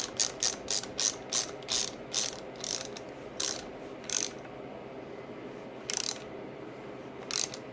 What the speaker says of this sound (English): you get to watch some guy thread a bolt in for 30 seconds